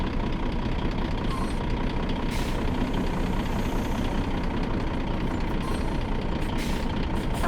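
A truck's diesel engine runs steadily while it slowly reverses a trailer, a continuous close rumble with a faint hiss at times, no voices.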